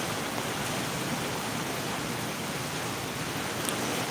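Heavy monsoon-style rain pours down steadily, a dense, even hiss of falling water close by and filling the whole stretch without pause or voices.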